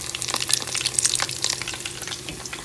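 Breaded mushrooms frying in hot oil, a continuous crackling sizzle full of fine bright pops, close and fairly loud, steady throughout with no voices.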